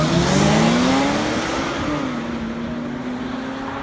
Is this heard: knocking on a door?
no